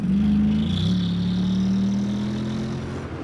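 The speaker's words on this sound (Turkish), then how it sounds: "Bu arada size motor sesini de dinletebilirim." A Honda Forza 750 scooter's engine revs and accelerates, a strong steady drone that rises in pitch, dips briefly as it shifts, then climbs again while riding on open road.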